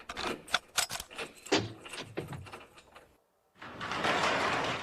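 Several door locks are turned and latched in quick succession in a Family Guy cartoon, a rapid series of close metallic clicks and clacks, followed by a short pause and then a steady burst of noise.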